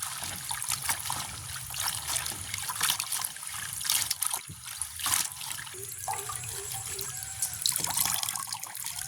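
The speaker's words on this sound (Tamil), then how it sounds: "கீரை கழுவி போட்டு தான் விட்டுவோம்." Fresh garden spinach leaves being washed in water, with steady trickling and splashing from running water throughout, close and fairly loud, with no one speaking.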